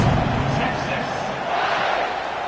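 A stadium crowd roars in a steady, broad wash of cheering at a football game during a kickoff, loud and sustained throughout with no break.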